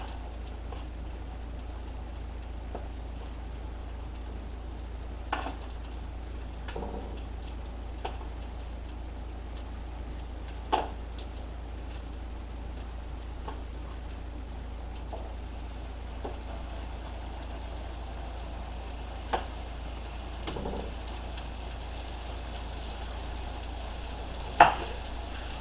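Swedish meatballs sizzle in a pan over medium-high heat, a faint steady fry with scattered small pops and crackles, with no talking.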